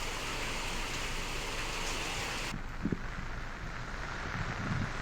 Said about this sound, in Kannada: ಧಾರಾಕಾರ ಮಳೆ ಇದು.